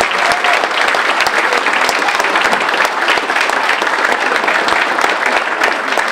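An audience breaks into sustained, full applause throughout, a thick wash of clapping hands at close range with no pause.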